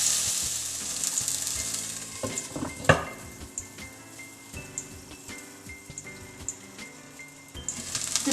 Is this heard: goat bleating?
no